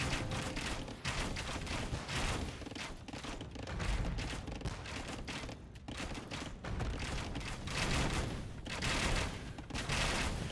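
Repeated cannon blasts in an Age of Empires battle as cannons knock down houses and a watchtower, a dense, steady barrage of booming shots and crashing impacts running the whole length, loud and continuous.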